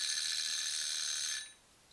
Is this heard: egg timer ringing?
yes